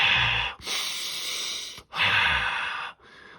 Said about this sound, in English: especially this kind of breathing